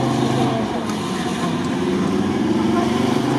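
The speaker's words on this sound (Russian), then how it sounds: "Красиво работает мотор." Engine of an off-road truck (GAZ-66 Shishiga type) running steadily during an off-road event, a continuous loud low rumble with muddy mechanical texture and faint voices in the background.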